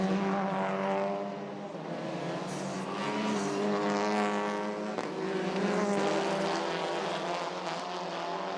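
TCR touring race cars lap the Zolder circuit, engines roaring loudly with rising and falling harmonic whine as the cars pass, one sustained pass swelling and fading with no talk.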